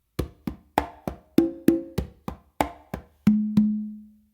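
Congas in a funk tumbao phrase of sharp slaps and muted strokes, closing on two ringing open tones that sustain at the end; clear, close-up solo hand drumming without voices.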